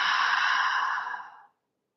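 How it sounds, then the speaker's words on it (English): A single deep exhale through an open mouth during a breathing exercise, a close, breathy rush of air lasting about a second and a half that fades out into silence. "Inhale with the nose. Open mouth, exhale."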